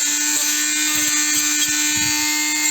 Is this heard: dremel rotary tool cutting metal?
yes